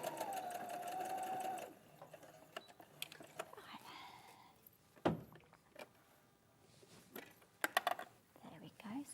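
A domestic sewing machine stitching a neckline runs in a steady whirring burst at the start and then stops, followed by quiet handling clicks and soft murmured talk nearby.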